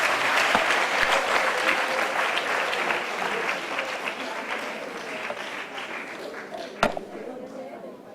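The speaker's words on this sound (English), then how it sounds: "Let's give her a big round of applause" Sustained, dense audience applause for the USAID deputy director at a teachers guide launch in Ghana, a loud, steady wash of many hands clapping that holds for the full stretch with a slight easing toward the end.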